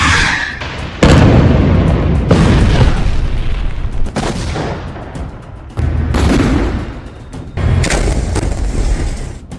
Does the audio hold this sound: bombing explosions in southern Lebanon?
yes